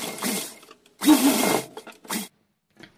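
Sewing machine stitching a small kurta, running in three short bursts of rapid whirring mechanical stitching separated by pauses, close and fairly loud, with a faint click at the end.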